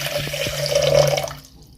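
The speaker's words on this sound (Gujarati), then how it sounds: "આપણે ચાસણી બનાવવા માટે આ પાંચસો ગ્રામ ખાંડ લીધી છે તેને આપણે એક મોટા વાસણમાં આ રીતે લઈ લઈશું અને તેમાં આપણે એક ગ્લાસ પાણી એડ કરીશું" A glass of water poured onto 500 grams of sugar in a large pot to start syrup for gulab jamun, a steady close pour with a rising tone that lasts about a second and a half, then stops.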